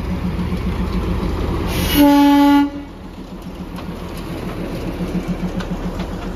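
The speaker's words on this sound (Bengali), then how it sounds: "আরও একটি টয় ট্রেন, মানে এগুলো ঘুম স্টেশন থেকে ঘুরিয়ে নিয়ে আসে এই ট্রেনগুলো" A two-coach Darjeeling toy train near Ghum gives one loud, sustained horn blast lasting under a second, set over the continuous rumble of the small train rolling along the narrow track.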